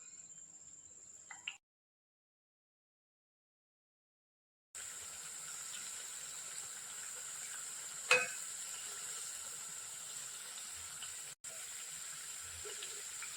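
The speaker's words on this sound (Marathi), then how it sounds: "असे स्लाइस आपण पिठामध्ये बुडवून घेतोय आणि पीठ छान आपल्या स्लाइसला कोट झालं की आपण ह्या गरम तेलात सोडून घेतोय." Battered potato slices for crispy batata bhaji frying in hot oil, a steady fine sizzle and hiss that starts after a silent gap, with one brief sharp pop partway through.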